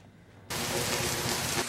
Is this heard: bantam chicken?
no